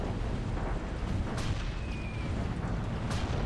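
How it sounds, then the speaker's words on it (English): Impaler artillery area-bombs a zone in Zero-K, a dense continuous rumble of distant blasts and booms with a few sharper cracks standing out, steady and unbroken throughout. "I believe these impalers were also like just area bombing this."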